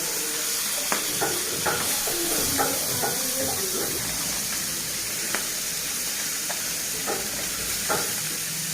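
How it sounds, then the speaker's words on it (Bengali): Koi fish coated with salt and turmeric frying in hot oil, a steady sizzle and hiss with occasional stirring scrapes and soft clinks spread through it. "পালং শাক দিয়ে কই মাছ রান্না করব, তাই একটু হালকা করে ভেজে নিচ্ছি লবণ হলুদ মাখিয়ে"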